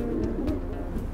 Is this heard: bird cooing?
yes